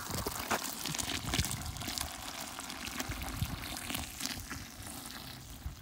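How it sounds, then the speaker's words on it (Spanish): Water is poured into a container of sheep manure to dissolve it, giving a steady, faint, hissing trickle that runs continuously with no voices. "ahorita yo le voy a añadir agua aquí para disolverlo un poco"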